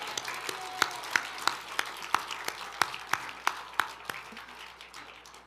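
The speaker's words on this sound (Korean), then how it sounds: "박수." Rhythmic, unison hand clapping from a church congregation at a new-members welcome service, with evenly spaced claps that gradually fade.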